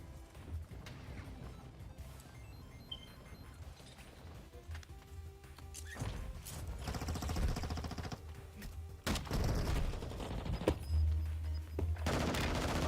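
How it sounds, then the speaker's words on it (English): Gunfire in the Call of Duty shooter game, several sharp shots and bursts over a dense, loud mix of game effects and background sound that grows busier toward the end. "Hear the shots."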